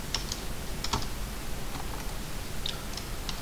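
Keystrokes tapped on a computer keyboard while entering commands in AutoCAD, a handful of light, irregular clicks close by, with no talk over them.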